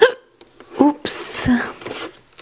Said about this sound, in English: I have hiccups, by the way.